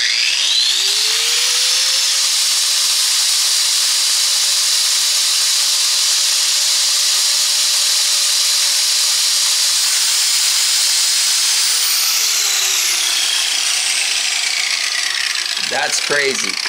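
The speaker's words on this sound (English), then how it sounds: "we'll see if it's going to power this grinder" An angle grinder runs at no load on power from a Bluetti EB150 portable power station, spinning up into a loud, steady whine that holds, then winds down as the motor coasts to a stop.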